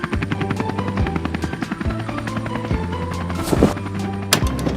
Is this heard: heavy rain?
no